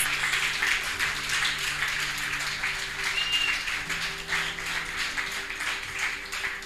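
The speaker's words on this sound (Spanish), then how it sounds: "Dale un aplauso al Señor entonces si lo crees." Steady applause from a church congregation fills the space, with continuous clapping and a faint low hum underneath.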